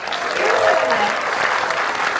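Audience at a Batman Day event at Warner Brothers Studio applauding, a dense steady round of clapping that carries through the whole moment with faint voices mixed in.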